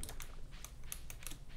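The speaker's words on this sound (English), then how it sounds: "No, I think that was the sound of my stuff planting." Rapid clicky taps of items being planted in a farming video game, a quick irregular series of light ticks, heard faint and alone.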